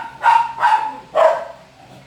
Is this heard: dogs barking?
yes